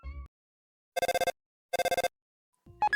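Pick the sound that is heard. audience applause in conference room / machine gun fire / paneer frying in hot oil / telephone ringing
telephone ringing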